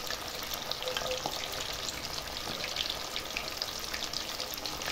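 Chicken pieces frying in a wide shallow pan over high heat, a steady loud sizzle and crackle of oil lasting throughout, close up with no voices.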